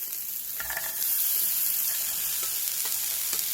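Onion and cabbage added to spicy stir-fried squid in a hot pan, a bright hiss swelling into a steady sizzle with occasional soft stirring knocks.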